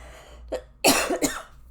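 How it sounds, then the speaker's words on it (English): A soft throat sound followed by two sharp, close coughs in quick succession, with quiet room tone between them. "Why am I coughing?"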